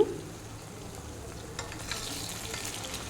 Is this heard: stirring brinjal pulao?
yes